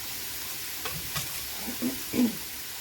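Ground taco meat browning in a pan gives a steady soft sizzle, with a few louder stirring scrapes and bursts spread through the stretch, no voices.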